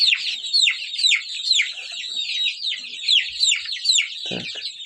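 Month-old chicks in a roomy pen keep up a dense, high chorus of peeping and chirping, steady and close, with a brief low cluck near the end.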